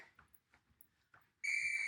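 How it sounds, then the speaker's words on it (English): A workout whistle gives one loud, sustained shrill blast after a few soft breath-like sounds, signalling the start of a plank. "when you hear the whistle in 5 seconds, you're gonna hit the floor into your plank"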